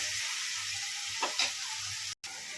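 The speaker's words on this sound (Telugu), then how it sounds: "ఆనియన్ గోల్డిష్ కలర్ వచ్చినంత వరకు కూడా అలా ఫ్రై చేస్తూ ఉండాలి." Onions frying in a pan for crab curry, a steady soft sizzle running throughout with a couple of brief stirring scrapes, heard alone without talk.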